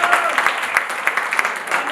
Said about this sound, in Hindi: ये बात एक बार जोरदार तालियां बजे